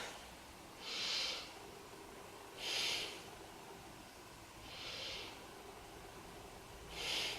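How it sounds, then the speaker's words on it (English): Slow, deep yoga breaths into the belly come in four soft, airy swells spaced a couple of seconds apart, faint and close against a quiet room hush. "3 big breaths into the belly."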